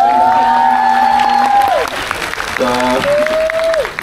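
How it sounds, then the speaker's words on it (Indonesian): Audience applause at an Indonesian film meet-and-greet celebrating three million viewers, a steady wash of clapping running throughout, with gliding sustained tones laid over it. "kita kasih tepuk tangan buat Fiona."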